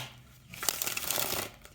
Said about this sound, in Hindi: तो चलिए शफल कर लेते हैं कार्ड्स को